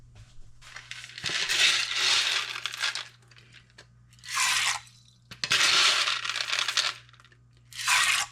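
Dry navy beans pour into a pot for canning in four separate rattling bursts, a dense hail of small hard pellets with pauses and a low hum between pours.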